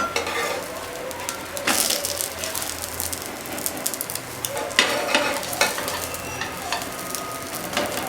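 Podi dosa sizzling and frying on a hot pan, a constant crackle with occasional scrapes and clinks of a spatula against the pan, close and fairly loud.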